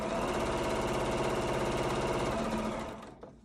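A sewing machine stitches a face mask seam: a close, rapid, steady mechanical chatter that runs continuously for about three seconds, then slows and stops.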